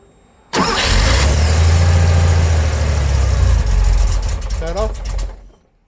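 A Porsche 911SC flat-six with a rebuilt starter motor cranks briefly and catches, then settles into a loud, steady, rumbling idle close by before shutting off near the end.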